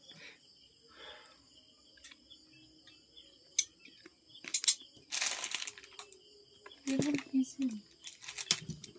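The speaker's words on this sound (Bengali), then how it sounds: "কাগজ ছিঁড়ে দেখি" Paper packaging torn off the box of a Redmi Note 13 5G phone, a few short, close ripping bursts between soft handling noises, with someone talking.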